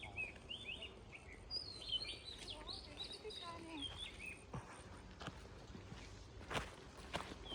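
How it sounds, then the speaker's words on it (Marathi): Birds chirp and call repeatedly in a forest at a tree house resort, scattered tweets over steady outdoor ambience with footsteps and rustling nearby. "आल्या आल्या ना असं किलबिलाट जो आहे ना पक्ष्यांचा"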